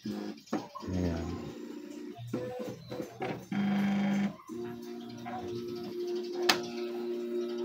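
An Epson M200 inkjet printer powering up, its carriage and feed motors whirring and buzzing in short mechanical bursts and one steady hum, with clicks and a sharp tick near the end, close and moderately loud.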